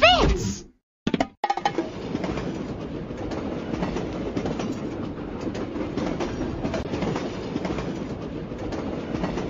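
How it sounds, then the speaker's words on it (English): A train running in a Dora and Diego video game gives a steady rumbling clatter with rhythmic clickety-clack. It fills nearly the whole stretch after a brief cut near the start. "Let's get the train ready to go."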